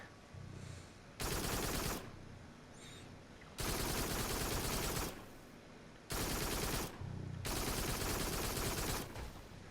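Secondary-fire homing missile shots in the VR shooter Farpoint: loud, broad bursts of weapon fire come in several long blasts separated by quieter stretches of game ambience.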